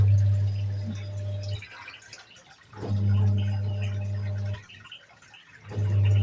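Water runs into a container in three bursts, each a loud low gushing that drops away to near quiet between them, with faint dripping.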